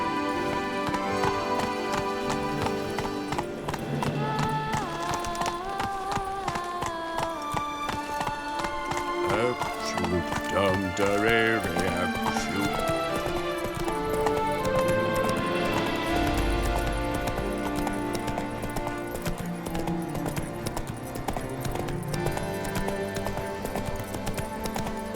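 Roach, Geralt's horse in The Witcher 3: Blood and Wine, clip-clops along in a steady galloping rhythm beneath a dense orchestral score, hoofbeats continuous and moderately close for most of the stretch.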